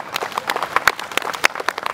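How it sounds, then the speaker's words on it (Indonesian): A small group claps at a company gathering, scattered uneven hand claps at close range that come quick, separate and fairly faint. "Tepuk tangan untuk kita semuanya"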